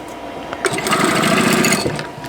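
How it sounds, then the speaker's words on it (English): A sewing machine stitches fabric for a quilt block, a close, loud, steady motorized whir running continuously for a couple of seconds. "So anyway, so I'm going to go ahead and sew."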